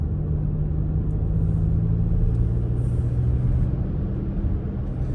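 Steady low rumble inside a 2021 Mercedes GLC 300 Coupe 4MATIC hybrid while driving, a constant road and drivetrain drone with no talking.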